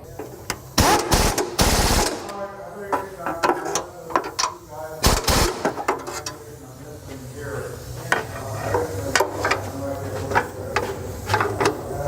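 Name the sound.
ratchet tightening nuts on exhaust studs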